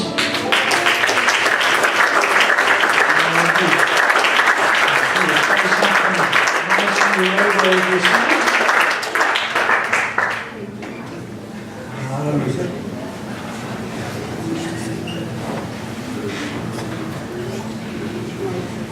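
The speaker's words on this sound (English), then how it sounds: "Why don't you clap your hands?" A church congregation claps hands in loud, sustained applause for about ten seconds, then it stops abruptly and a preacher speaks over a quieter room.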